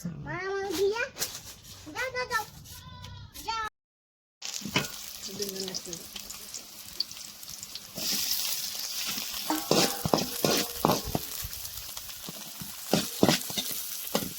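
Shrimp frying in a pan with onion and green chili, a steady oil sizzle with stirring scrapes and clinks, after a short silent gap; a child and an adult talk over it.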